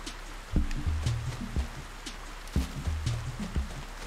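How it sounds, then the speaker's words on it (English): Rain falling in the GameCube video game Animal Crossing, a soft steady patter with recurring low thumps roughly once a second, no voices. "It sure does rain a lot."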